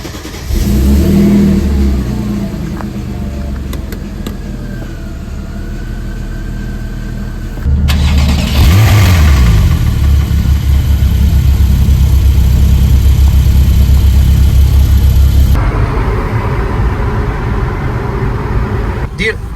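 A Mercedes C32 AMG engine idles, then revs hard in loud, sustained surges with a deep exhaust note up close, settling between blips while people talk over it.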